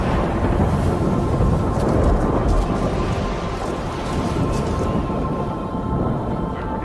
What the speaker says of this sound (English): Not only a severe electrical storm heading north